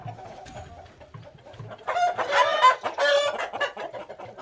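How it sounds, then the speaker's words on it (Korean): A crowd of chickens in a village farmyard, clucking and squawking together with rising intensity, loud and close, several birds calling over one another in bursts. "이 닭들, 오, 닭들 진짜 많아요."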